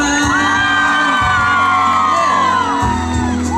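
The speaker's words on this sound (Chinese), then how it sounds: "给自己一个尖叫声加掌声" At an outdoor community event in Shigang, Taichung, a large crowd cheers during a singer's performance. Many voices scream and whoop loudly together in a dense, continuous roar that rises and falls.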